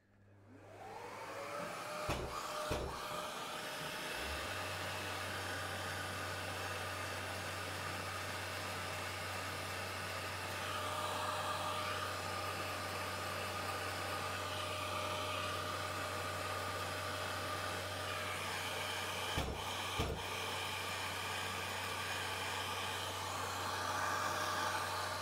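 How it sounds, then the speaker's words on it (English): A surface grinder's wheel plunges against the side of a carbide threading insert, giving a steady, loud broadband hiss with a low motor hum that runs the whole time, briefly cut by a few sharp breaks. "I'm just plunging down with the grinding wheel until I clean up the whole side of this insert."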